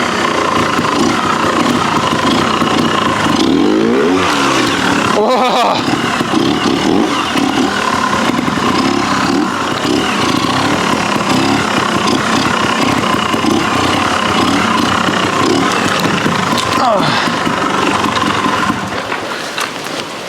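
A Yamaha TYZ trials motorcycle engine roars loudly and steadily up close, a slightly breathy, buzzing drone that holds for about twenty seconds with small throttle swells before easing off at the end; a brief exclamation is heard once.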